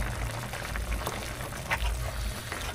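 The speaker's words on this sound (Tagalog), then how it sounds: "Kumukulo na siya." Chicken feet simmer in a pot, giving a continuous close bubbling and hissing boil with small pops and splashes throughout.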